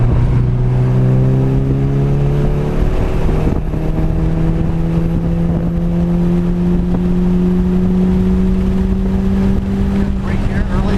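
A 2006 Mitsubishi Evo9 MR accelerates hard around Laguna Seca, its engine note climbing steadily through the revs in a loud, close in-car drone, with a brief shift dip early on.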